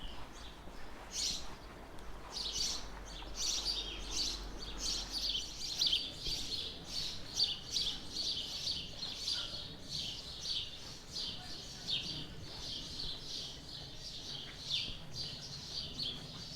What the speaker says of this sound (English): The birds are already calling for me.